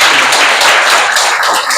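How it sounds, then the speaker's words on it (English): Loud, close applause from a seminar audience after a talk, a dense wash of many hands clapping continuously for a couple of seconds. "Can we give a round of applause?"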